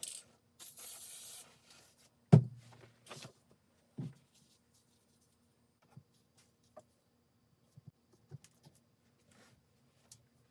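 A short hiss of aerosol adhesive spray applied lightly to cups for sublimation around the two-second mark, followed by a few quiet taps and handling noises in an otherwise still room.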